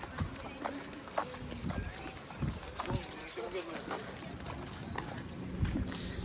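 Horse hooves clip-clop at a quick pace on a beach amid outdoor noise and people talking.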